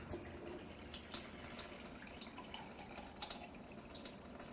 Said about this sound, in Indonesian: Kita buang airnya dengan debit air yang paling besar.